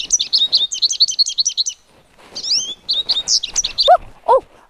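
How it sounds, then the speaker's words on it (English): An American goldfinch sings, bright rapid twittering phrases near and clear, a run of quick repeated notes, a short pause, then bouncy varied chirps and a few lower call notes. "An American goldfinch can also be identified by its song or call."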